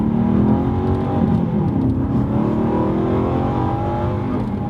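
An Aston Martin V8 Vantage with a Bamford Rose lightweight flywheel and primary cat delete revs steadily and loudly close by, a rich continuous engine drone with rising harmonics and no talk.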